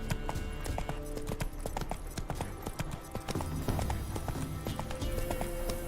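Rhythmic clip-clop of a horse galloping in The Witcher 3, steady hoofbeats close and loud over a continuous background bed.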